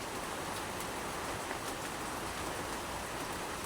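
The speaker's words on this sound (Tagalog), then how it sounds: "Medyo natatakot na ako sa sa ulan." Steady rain falls at dusk on a fishing outing in a typhoon, a dense even hiss with no distinct drops standing out and no voices.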